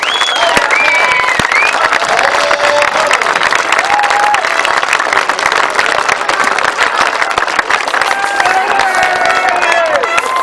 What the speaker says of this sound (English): a big round of applause for James Shanes